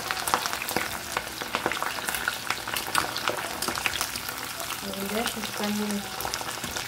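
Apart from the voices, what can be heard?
corn kernels frying in oil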